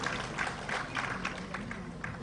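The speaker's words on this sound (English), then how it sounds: "Please extend a huge round of applause," Audience applause at a tech summit in Visakhapatnam, a steady wash of many hands clapping at a distance, fairly faint and continuous throughout.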